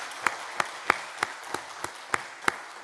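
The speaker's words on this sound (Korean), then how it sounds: "우리 박수로 함께 축복하겠습니다." A church congregation gives a short round of applause during a Sunday service, eight distinct, evenly spaced claps ringing in a reverberant room, fairly quiet and sparse with no talking over them.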